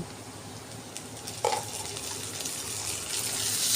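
Ginger paste sizzles in hot oil in a pan of pigeon meat, a steady broad frying hiss that grows slightly louder toward the end, with a brief stirring clatter midway and no talking.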